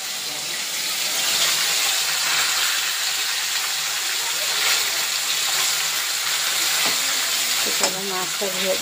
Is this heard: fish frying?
yes